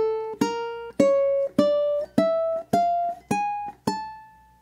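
Single notes of a Gypsy Major scale picked one by one on a ukulele, eight plucked tones stepping upward at an even pace, each ringing clearly and decaying before the next, close and alone with no voice.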